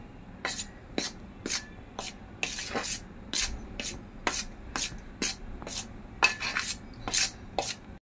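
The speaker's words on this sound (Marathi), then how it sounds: "आता आपण हे पीठ मिक्स करून घेऊया" Rice flour and gram flour are stirred together in a bowl for a potato chakli dough, with regular scraping and tapping strokes of a spoon against the vessel, close and fairly quiet.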